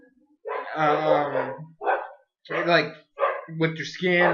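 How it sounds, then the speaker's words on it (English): A pet dog barks in loud, close bursts, four or five rough barks separated by short pauses, with a person speaking briefly among them. "I'm sorry about my dog barking."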